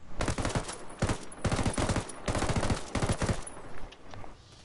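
Automatic rifle fire in Ghost Recon Wildlands, several loud close bursts of rapid shots separated by short pauses, then fading out at the end.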